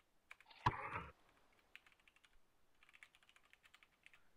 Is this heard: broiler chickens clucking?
no